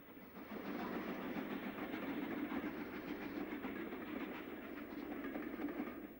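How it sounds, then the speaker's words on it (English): Retford's breakdown train trundles homeward through Trent Junction in the 1960s steam era, a steady, loud rolling rumble with rhythmic wheel clatter on the rails that continues throughout, with no voices. "Retford's breakdown train trundles homeward bound through Trent Junction."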